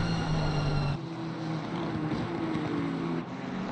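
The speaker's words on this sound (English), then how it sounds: "Love the sound of this little car." A small GT3 race car in Assetto Corsa Competizione at Barcelona drones with a buzzy engine note, close and loud, dropping in pitch at a gear change before droning on steadily.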